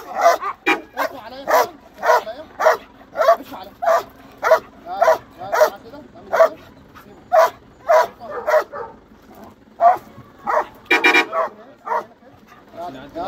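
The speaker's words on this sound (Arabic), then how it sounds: "ما شاء الله الكلب اهو شغال ويحرس صح زي ما انت شايف" A guard dog barks repeatedly, loud and close, in sharp bursts about once a second with brief gaps, while someone talks over and between the barks.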